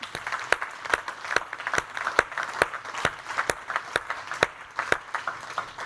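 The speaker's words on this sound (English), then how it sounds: "So if we can do a quick round of applause" A small audience gives a quick round of applause at a talk, with a steady run of sharp, separate claps standing out near the microphone over a softer spread of clapping behind.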